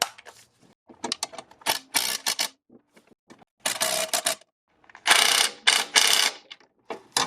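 A ratchet tightening bolts on the crank pulley of a 2008 Acura MDX, several bursts of loud rapid clicking separated by short pauses, very close.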